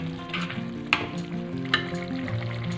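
Food frying in a pan in a home kitchen, with a steady close sizzle, rolling low cooking hum and two sharp clinks of a utensil against the pan partway through.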